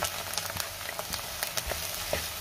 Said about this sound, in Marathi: आता हे वाटण मी चांगलं तेल सुटेपर्यंत परतून घेणार आहे